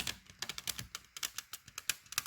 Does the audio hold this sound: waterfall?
no